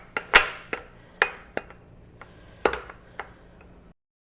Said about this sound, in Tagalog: Durugin natin tong gabi guys.